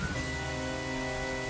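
Rain in the Zelda: Ocarina of Time game falls as a steady, dense hiss at night, layered with sustained tonal game music, with no talk over it.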